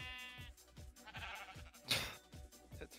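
Sheep bleating in the video game Minecraft: a short, quiet, wavering bleat over a soft background of low rhythmic thumps.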